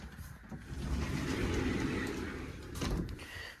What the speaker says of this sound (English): Then you got your sliding door.